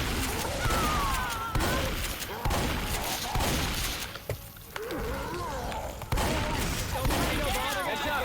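Rapid gunfire blasts at a Tank in the zombie shooter game Left 4 Dead, dense continuous bursts with game effects, loud and near, with players talking over the shooting.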